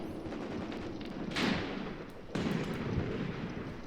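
Gunfire traded between infantry a few hundred feet apart in Graviteam Tactics: Mius Front, with dense, steady distant crackle and two sharper, louder bursts standing out from the continuous background shooting.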